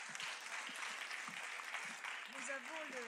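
Steady audience applause fills a French regional awards ceremony, the Elwa d'Or 2012, dense and continuous throughout, with a voice speaking faintly over it near the end.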